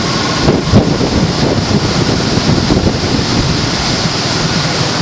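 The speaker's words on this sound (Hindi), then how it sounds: "पानी की आवाज़ और पानी का शोर तक आपको आ रहा होगा।" Rushing water of the Indus river heard from the Jamshoro bridge in Hyderabad, Pakistan, a loud, continuous roar mixed with wind buffeting the microphone, steady throughout and with no one speaking.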